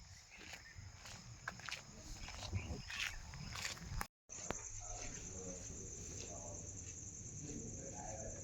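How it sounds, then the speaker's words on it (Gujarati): Birds and crickets calling outdoors in Patan, with a dense chorus of chirps and a sustained high insect drone that continues after a brief cut, heard at a moderate distance with no clear talk. "જો પંખીનો અવાજ આવતો હોય સાંભળો"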